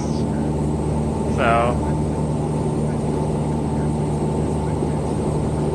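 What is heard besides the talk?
small propeller airplane engine in flight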